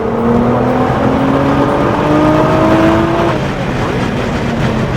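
Supercar accelerating around the Charlotte Motor Speedway track, a loud close engine note rising steadily in pitch under heavy wind and road roar, then dropping briefly as the revs reset before climbing again.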